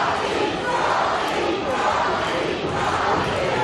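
A wrestling crowd in Meadville cheers wrestler Rocky Reynolds at an IWC show, a dense sustained roar of many voices shouting together that stays loud and steady throughout.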